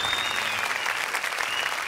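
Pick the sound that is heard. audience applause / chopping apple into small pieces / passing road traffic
audience applause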